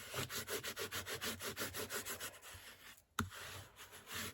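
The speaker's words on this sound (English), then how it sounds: "I'll take my bone folder, give it a good burnish so that the glue squishes along" A bone folder burnishes a glued paper page in a junk journal with quick rhythmic rubbing strokes, close and soft, then a brief pause and a single sharp tap before the rubbing resumes.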